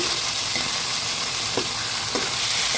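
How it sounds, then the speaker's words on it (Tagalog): Ground meat sizzles and sautés in a pan for a Filipino dish of sautéed bottle gourd, a continuous loud frying hiss with a few soft stirring scrapes. "Ito pong giniling ang akin pong lahok. Kailangan pong ay ginigisa."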